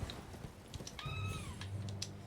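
A single drawn-out cat meow rises and falls over a faint, noisy background, fairly quiet and close.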